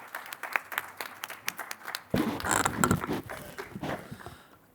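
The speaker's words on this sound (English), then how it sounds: "Let's welcome with a huge round of applause" Conference audience applause welcoming the guest of honour at a Bangalore event, scattered individual claps that swell into fuller clapping midway before thinning out.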